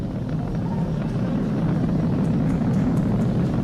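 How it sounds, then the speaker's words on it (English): SpaceX Falcon 9 rocket climbing through supersonic flight during a Crew Dragon launch, a steady, loud broadband roar with no breaks and no voices. "Vehicle is supersonic. We've exceeded Mach 1 on the Falcon 9."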